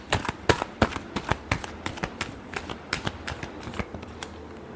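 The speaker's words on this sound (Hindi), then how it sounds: "Last shuffle." Tarot cards are shuffled by hand in a quick, crisp series of riffling snaps, close and fairly even in rhythm, with no talk over them.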